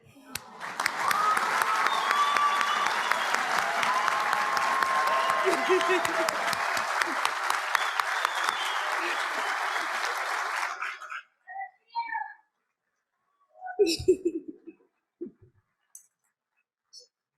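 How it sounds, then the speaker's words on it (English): A ceremony audience gives sustained applause for graduating physical therapy students, dense steady clapping for about eleven seconds before it stops abruptly, followed by a few short bursts of nearby voice and stray noise. "I'd like to ask one more round of applause for all the students on this wonderful achievement."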